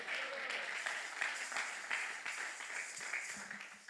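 A church congregation claps in a dense, continuous patter. The applause sounds fairly distant and modest in volume and runs unbroken for a few seconds.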